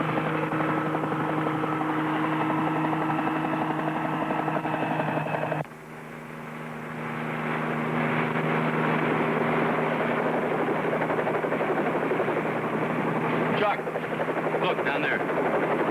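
Helicopter 38 Bravo flying over a ridge during a search, steady engine drone and rotor hum held close throughout, with a brief dip partway and a voice speaking over it.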